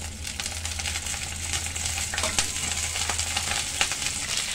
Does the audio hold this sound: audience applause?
no